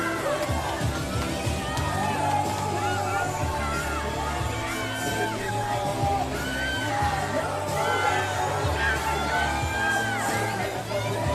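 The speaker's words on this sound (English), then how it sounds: "Crowd is on their feet for sure for this one." Spectators at a high school swim meet cheer and shout continuously, a dense crowd roar with high whoops and children's yells rising and falling throughout.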